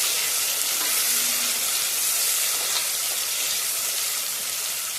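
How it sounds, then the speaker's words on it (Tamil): Onions for chicken biryani sauté in a hot pan, giving a loud, continuous, even sizzle with a faint stir now and then and no talking. "வெங்காயத்தை போட்டு நல்லா வதக்கணும்."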